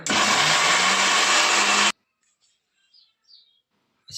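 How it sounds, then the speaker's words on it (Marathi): A mixer grinder grinding ginger and garlic whirs loudly at close range for about two seconds, then stops, leaving near silence with faint distant bird chirps. "थोडे मोठाले तुकडे घेऊन मिक्सरमधून काढून घ्यायचे आहे"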